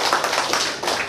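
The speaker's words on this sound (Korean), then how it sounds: "박수 부탁합니다" Clapping from an audience at a talk on mind practice and workplace relationships, a short dense burst of many hands, steady and fairly loud with no voices.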